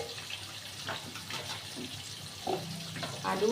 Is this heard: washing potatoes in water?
yes